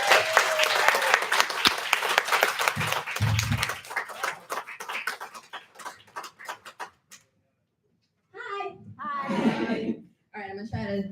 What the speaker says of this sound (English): let's keep this applause going for these open micers